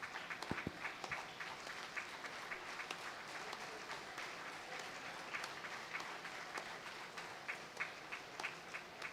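A college foundation day audience applauds an award presentation, with a steady patter of many hands clapping at moderate distance and a few close, crisp individual claps popping out, sustained throughout.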